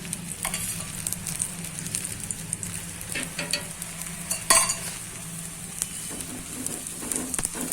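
Jain dhebra fry in ghee in a pan with a soft, continuous sizzle, broken by occasional sharp clicks and scrapes as they are turned. No one speaks.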